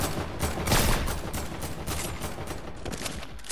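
Sniper gunfire in a shooter video game, a dense barrage of loud close shots with rapid rattling bursts, strongest early then continuing steadily to the end.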